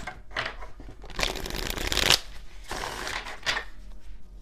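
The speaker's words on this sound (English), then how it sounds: "Let's do one more shuffle just in case." Tarot cards riffle and shuffle close by in two or three bursts of crisp, papery flutter, the longest in the middle, with quieter handling between.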